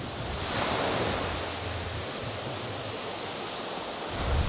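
Sea waves wash onto a crowded Greek beach on a sunny holiday, a continuous broad hiss of surf that swells slightly at the start and end, with no voices standing out.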